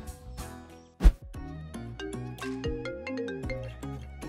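A phone ringtone plays a bright electronic melody of quick tonal notes and chirps, with a sharp thump near the start, moderately quiet and alone.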